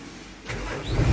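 Isuzu Forward dump truck with a 6HL1 manual diesel engine cranking and catching, a short rising mechanical rumble that swells louder near the end, no voices.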